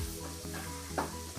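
Ground beef browning in a greased pan, a soft steady sizzle with a few scraping stirs of a utensil, fairly quiet and close, with no talking.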